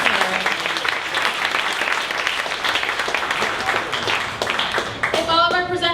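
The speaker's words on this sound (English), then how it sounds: "one more round of applause for Weiser." An indoor audience at a presentation event applauds a presenter with steady, dense clapping that runs loud and full throughout, while a voice speaks over it near the end.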